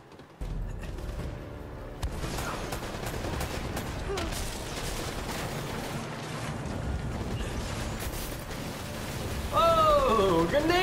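Explosive bursts and rattling gunfire from a grenade launcher fight in a video game, a continuous barrage of sharp blasts and mechanical clatter, ending with a brief loud shout.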